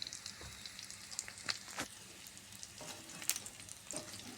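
Pork crisping in its own rendered fat in a wok, a faint, soft sizzle with sporadic pops and light stirring clicks, quiet and close, no speech.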